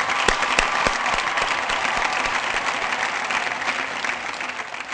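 A studio audience at the Mazaaq Raat talk show breaks into loud, continuous applause, with a few sharp individual claps standing out near the start as the clapping holds steady throughout.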